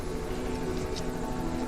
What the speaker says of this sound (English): Gyrocopter. You use them out here for aerial muster and they're a lot cheaper to run than a helicopter.